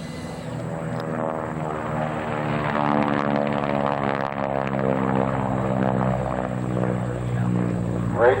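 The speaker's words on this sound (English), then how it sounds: "Here's the plane's going to land later." An electric model airplane at an airshow flies across the field, its propeller motor a steady, loud, harmonic drone that swells slightly as it passes close, with no talk over it.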